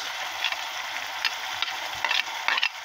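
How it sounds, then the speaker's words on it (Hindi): Green chilies being stirred with a spoon in a cooking pan over heat, a steady sizzle with repeated light scraping and tapping strokes, close and with no talking. "बस थोड़ा सा इसको हिला के इसमें मैंने डाल दी सब्ज़ मिर्च।"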